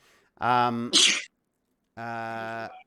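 A single loud sneeze bursts out after a short voiced intake, followed by a pause and then a sustained vocal sound.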